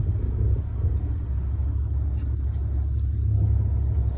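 A car driven by a learner driver rumbles at low, steady idle while being put into drive, a close, continuous engine drone with no clear revving.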